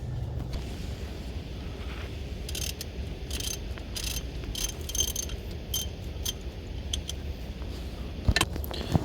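A ratchet works on the positive charging wire bolts of a Land Rover alternator, giving bursts of quick clicking against a steady background hum, close and moderately loud.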